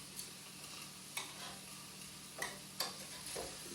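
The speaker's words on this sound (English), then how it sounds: "we're just browning it" Meat browning in a pan for an eggplant parmigiana pasta sauce, a quiet steady sizzle broken by a few sharp scraping stirs, with no voices.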